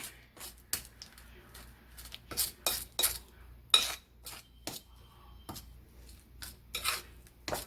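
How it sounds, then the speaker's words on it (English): A utensil scraping and clinking in a bowl while mixing cinnamon swirl cake batter, giving repeated close taps and rubbing strokes at an uneven pace. "Let's mix that up together."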